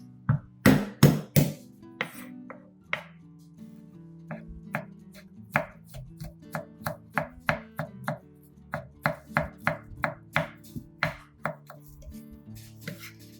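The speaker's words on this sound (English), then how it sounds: "I prepared 3 cloves of garlic, peeling and mincing them" Garlic cloves are minced with a knife on a cutting board, starting with a few sharp separate knocks, then settling into a long run of quick, steady chopping taps, close and crisp with no talking.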